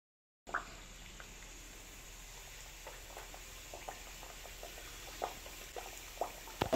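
Homemade biscuit dough frying in preheated oil, a steady soft sizzle with scattered small pops and crackles after a brief silent start, close and quiet, no talking.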